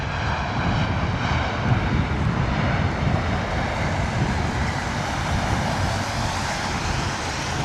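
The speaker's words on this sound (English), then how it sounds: "British Airways A320 Neo coming in. Beautiful landing there." A British Airways Airbus A320neo airliner lands at London Heathrow in wet, windy weather, its broad, steady jet roar loud and continuous throughout with no talking.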